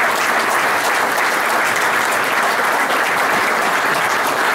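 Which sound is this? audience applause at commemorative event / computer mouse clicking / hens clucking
audience applause at commemorative event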